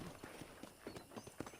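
Horse hooves clip-clop in Red Dead Redemption, a faint, steady rhythmic trot of light thuds at a walking pace.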